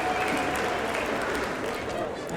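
Fan club members and families clap for the St. Louis team at a cooking competition, a steady crowd applause running throughout, with talk over the top.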